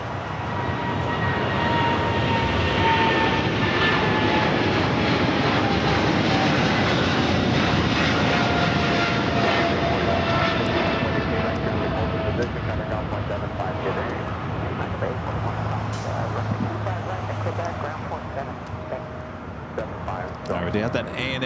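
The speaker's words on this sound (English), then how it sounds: "We have that ANA special livery Star Alliance Dreamliner now on taxiway Papa heading here to the south side." An ANA Star Alliance special-livery Boeing Dreamliner jet taxiing at LAX, producing a loud, steady engine roar and whine that holds throughout and eases slightly toward the end.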